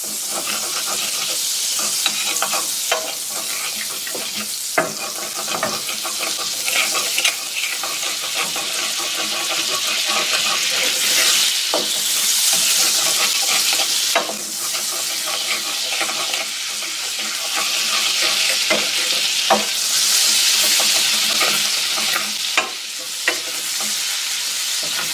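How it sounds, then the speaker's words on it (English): Butter sizzles loudly in a hot pan while a utensil stirs and scrapes the browned fond from the bottom, a steady frying hiss broken by frequent scraping clicks throughout. "So I'm going to add 2 tablespoons of butter, and that's going to release the fond."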